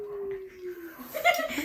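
A human voice imitates a puppy whimpering, a thin high whine that slowly falls in pitch, followed by breathy yipping sounds, brief and fairly close.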